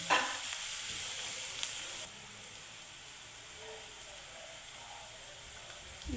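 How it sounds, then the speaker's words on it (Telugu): Coriander and curry leaves fry in hot oil for Andhra-style okra (bendakaya) pulusu, giving a steady close sizzle that is louder for the first two seconds, then settles into a softer, even hiss with no talking. "ఇలా నూనెలోని కొత్తిమీర కరివేపాకు వేయించుకుంటే ఫ్లేవర్ బాగుంటుందండి"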